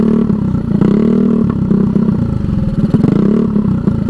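A Honda Ruckus scooter that sat unridden for two to three weeks idles unevenly, its low engine note loud and close with a continuous rough, wavering pulse throughout.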